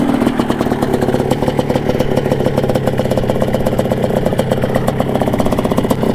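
A Quadzilla Banshee 500cc quad engine idles nearby, a loud, steady, rapidly pulsing putter with a rattly clatter, continuous throughout and without talk.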